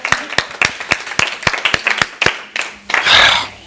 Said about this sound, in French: On faut applaudir pour elle